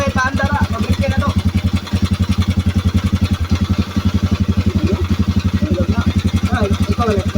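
A small motorcycle engine with a 62mm bore runs close by, its steady rapid pulsing idle throbbing throughout with brief dips, while people talk over it.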